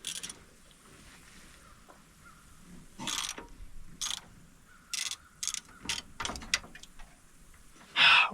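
Ratchet socket wrench working a tight bolt on a 1962 Mercury Meteor, heard as scattered bursts of clicking over a quiet background, with a louder burst near the end.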